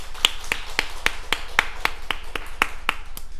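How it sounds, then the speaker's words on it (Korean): A church congregation at a Sunday service claps in unison, sharp, evenly spaced claps about four per second, crisp and close, with no voices. "여기까지 도우신 우리 하나님께 감사와 영광의 박수 올려드릴까요?"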